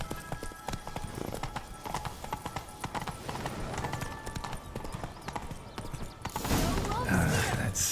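Horse hooves clip-clopping at a steady trot in The Witcher 3: Wild Hunt, continuous rhythmic clopping with creaking tack, ending in a louder rush of noise, and voices talking over part of it.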